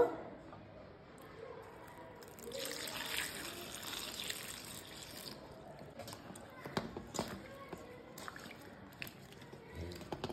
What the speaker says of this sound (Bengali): লঙ্কাগুলোকে এবার আমি ধুয়ে পরিষ্কার করে নেব